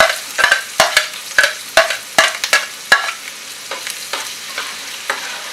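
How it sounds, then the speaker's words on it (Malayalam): Onions sizzle and fry in a pan, with a series of sharp stirring scrapes and clicks at an irregular rhythm over a steady, moderate hiss. "നമുക്ക് സവോള ഇട്ടെടുക്കാം"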